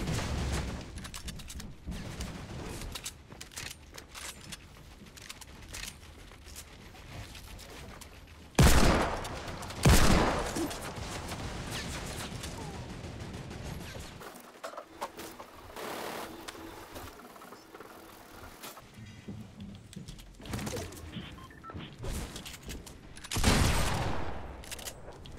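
Gunfire from a pump-action gun in a first-person shooter video game, with a few loud close blasts standing out over a dense background of game noise and rapid shots.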